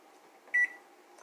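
A kitchen timer gives a single short electronic beep in a quiet room, clear and close, with faint background hum before and after.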